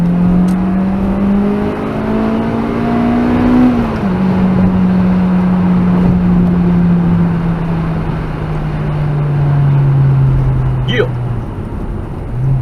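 A Honda engine with VTEC revs up from inside the car and climbs in pitch through a gear, then drops off and keeps droning at a steady tone. Speech-like sound is also tagged in the same stretch.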